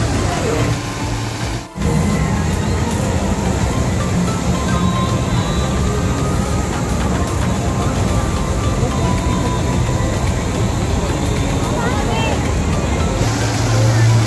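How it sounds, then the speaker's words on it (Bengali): A boat travels across the water at Marina Bay in Singapore, its steady engine and hull wash forming a loud, continuous broadband roar with wind buffeting throughout and a brief dip near the start. "এখানে বুট চলতেছে"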